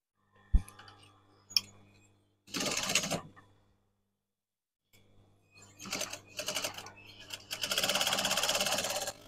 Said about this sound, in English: I'm going to start off with a back tack. So I'm going to aim to stitch just inside this edge.